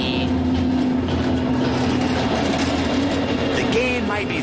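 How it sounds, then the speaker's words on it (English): A freight train on the Ghan rail line in outback Australia rumbles past loud and close, a constant roar of wheels on track with faint clacking and a brief high squeal near the end. "there are far more freight trains than passenger services"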